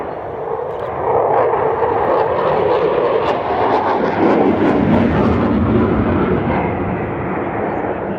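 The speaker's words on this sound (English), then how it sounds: "All of this with the two Eurojet EJ200 turbofan engines in afterburner." A Eurofighter Typhoon's twin Eurojet EJ200 turbofans in afterburner swell into a loud, continuous roar at an air display, heard from the ground, and the roar persists with no break.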